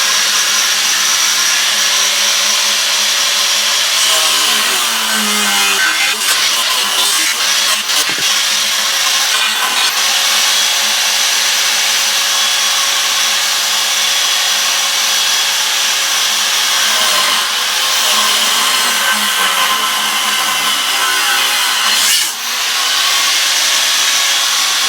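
A power tool cutting metal for a pull-behind boom sprayer axle, a loud continuous grinding whine that holds steady for a long stretch with slight shifts in pitch as the cut progresses.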